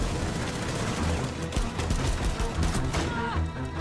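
Dense, chaotic gunfire in the video game Rainbow Six Siege, with loud overlapping shots and rattling bursts running through the whole stretch, close and continuous.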